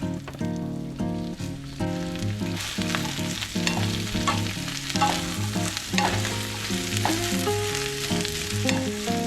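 Vegetables seasoned with salt and pepper are stirred in hot oil in a pan, giving a steady sizzle that sits under loud background music.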